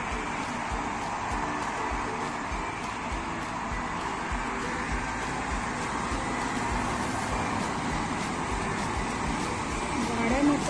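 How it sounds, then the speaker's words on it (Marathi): Steady broadband rumble of cars and other vehicles moving along a road on a foggy, cold morning in Nizwa, Oman, continuous and fairly close throughout with no distinct single pass-by. "गाड्या मात्र चालल्या सगळ्या."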